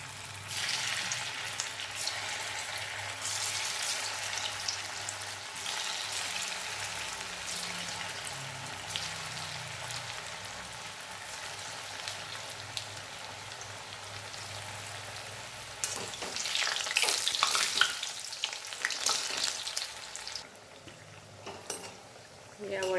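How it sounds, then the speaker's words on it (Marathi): Alu vadi rolls frying in hot oil over a lowered gas flame, giving a steady, moderate sizzle that swells and crackles more sharply toward the end, with occasional faint clinks of utensils. "तेल तापलेलं आहे आता एक एक वडी आपण यामध्ये सोडूयात आणि गॅस हा बारीक करायचा आहे"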